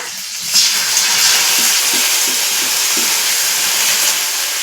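Ground cumin, ginger, green chili and onion paste sizzles in hot oil with a loud, continuous hiss and faint, scattered crackles, close and unbroken from start to end.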